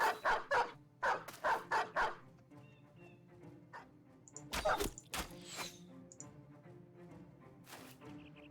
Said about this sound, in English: That is a lot of dogs.